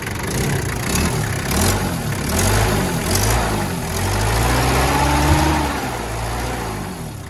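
The engine of a 1990 Daihatsu Taft rumbles up close, idling and then revving in several rising and falling swells, loud and unbroken with no talking.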